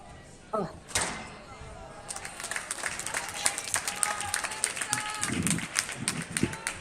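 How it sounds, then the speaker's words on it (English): Spectators applaud and cheer at a professional squash quarterfinal. The clapping is steady, dense and fairly loud, swelling after a short lull and continuing throughout. "the crowd is just as excited as you are, Olivia."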